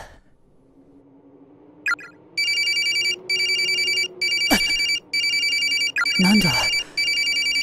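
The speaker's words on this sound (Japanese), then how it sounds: "着信してるのに、写メ画像のままだ。 着信表示も出ていない。 音だけが鳴っている。" In the video game Corpse Party, a mobile phone's incoming-call ringtone begins after a quiet stretch. The loud electronic tone repeats in steady bursts with brief gaps, and a voice briefly speaks over it.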